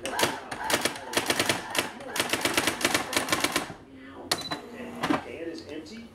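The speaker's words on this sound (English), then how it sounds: "right here we got a Brother typewriter. That works, zero problems." A Brother typewriter, bought at a school auction, clacks through rapid bursts of keystrokes, loud and close, broken by a brief pause and a few more strikes with a carriage or bell-like ring near the end.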